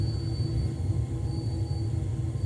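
A train braking and sliding on the rails in the Train Sim World 2 video game, a steady low rumble with a faint high whine running throughout, with no voices.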